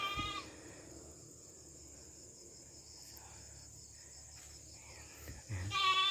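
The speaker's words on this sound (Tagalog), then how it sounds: "Nag-iingay yung kambing, na iwan siya." A goat bleats briefly at the start and again at the end, over a steady background of chirping crickets.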